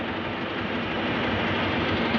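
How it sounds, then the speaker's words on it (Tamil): A train rumbles past in a steady, dense roar with no breaks, in Karnataka, India. "நம்ம இருக்கும்போது கரெக்டாக ட்ரெயின் போகுது."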